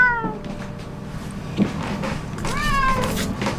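A small cat meows close to the microphone at an indoor desk, giving a couple of short, rising-and-falling cries over quiet room noise.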